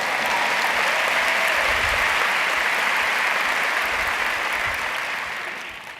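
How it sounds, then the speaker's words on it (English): Audience at a TEDxPortland talk applauding for several seconds, a steady, full roar of clapping that holds level and then tapers off at the end. "Just a quick round of applause for April."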